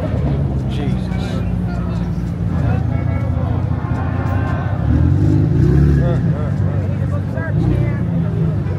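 A car revs its engine while pulling out of the SEMA 2024 show, a loud, steady rumbling drone that swells partway through, with crowd voices and shouting mixed in.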